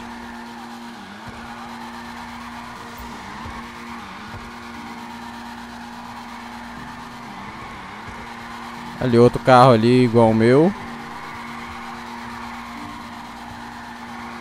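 In GTA 5, an Annis Euros (Nissan 370Z) drifts with a loud, wavering tire squeal lasting about a second and a half, set against a steady engine drone while someone talks over the game.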